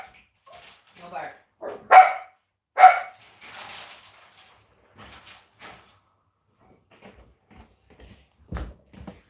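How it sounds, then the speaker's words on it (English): A pet dog barks in short sharp bursts, with two loud barks close by and softer scattered yelps between quiet pauses. "My other dog's barking."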